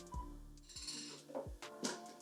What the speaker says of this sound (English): I'm going to just stir it around to make sure that everything incorporates well